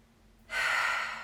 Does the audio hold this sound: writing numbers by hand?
no